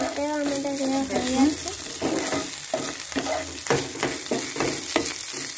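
Chicken meat frying in a hot pan, spattering and sizzling in close, irregular crackling bursts, with a brief voice near the start.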